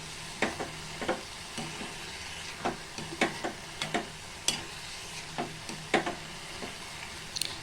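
Tamarind frying with mustard leaves in a pan, a soft continuous sizzle broken by repeated scraping stirs that come in irregular bursts, fairly quiet and without speech.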